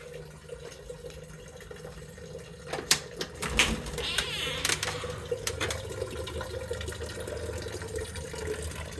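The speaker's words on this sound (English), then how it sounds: "makeshift water feature where I took 2 maple syrup buckets and ran a little fountain, took a fish pump" A small makeshift garden fountain built from two maple syrup buckets and a fish pump, trickling and splashing steadily up close on a quiet morning, with a few louder bursts of splashing partway through.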